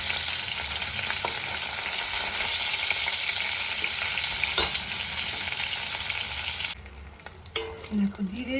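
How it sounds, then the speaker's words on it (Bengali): Fish fry in a hot pan, a steady crackling sizzle with small pops and spatters that runs on and then drops back as the pan is stirred and handled near the end. "মোটামুটি মাছগুলো আমার ভাজা হয়ে গেছে, আর একটু ভাজি"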